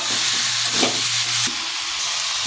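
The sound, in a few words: chicken frying and being stirred in spice masala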